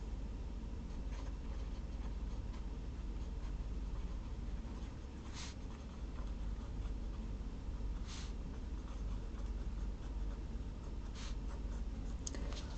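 Marker or pen scratching steadily across a board or page while matrix equations are written out, a continuous close scraping with brief louder strokes and no talk.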